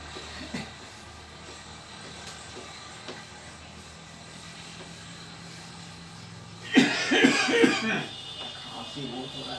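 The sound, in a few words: coughing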